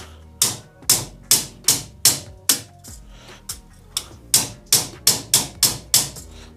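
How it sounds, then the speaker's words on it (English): A socket taps steel can rose petals flat, a series of about a dozen sharp metallic knocks, close and loud, in an uneven steady rhythm with a brief gap midway. "give them a few taps just to make sure everything's down and flat"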